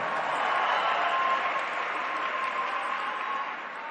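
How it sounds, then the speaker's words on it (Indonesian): A crowd claps steadily in sustained applause at a political speech, dense and even, fading slightly at the end. "Tepuk tangan untuk para pejuang reformasi kita."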